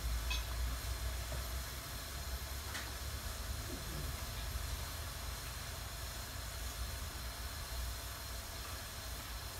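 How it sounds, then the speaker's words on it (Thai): Water coming to a rolling boil in a pot on the stove for a Thai fish-curry noodle broth, a steady close hiss and bubbling roar that holds evenly throughout with no talk. "น้ำเดือดแล้ว"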